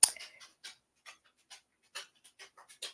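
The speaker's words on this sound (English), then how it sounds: "my dog sounds like a horse walking through the house right now" A dog pants and pads through a house, short breathy puffs spaced irregularly over a quiet room, close to the microphone with clicking footfalls between breaths.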